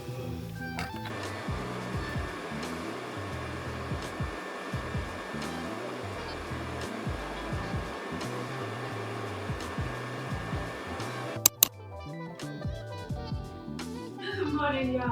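A hair dryer blows on wet hair with a steady, close whooshing drone that holds almost unchanged throughout. A short clatter sounds near the end, and a voice may be faintly present under the noise.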